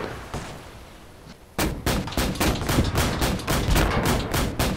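A tank gun and rapid gunfire ring out in the World War II video game Gates of Hell at an abandoned factory. A quiet stretch gives way to a sudden loud burst, then a fast run of sharp, evenly spaced shots, close and without talk.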